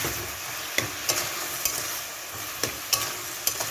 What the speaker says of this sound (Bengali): দেখো এটা ভালো করে নেড়ে চেড়ে দিলাম।